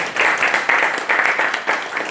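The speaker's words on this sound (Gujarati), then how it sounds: "અશ્વિનભાઈને આપણે જોરદાર તાળીઓથી વધાવીએ." Audience at a textile week event applauding to welcome the chairman of a textile association's Ahmedabad unit, loud sustained clapping from a large crowd rising and falling in waves.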